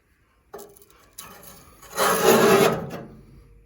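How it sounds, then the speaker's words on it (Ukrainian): A cleaning brush scrapes along the metal walls inside the heat exchanger of a RETRA-6M 21 kW boiler: a few short scuffs, then a louder, sustained rasping scrape that fades away, close and with no talk. "як іменно працює наш чистик, як ви бачите, по стінці"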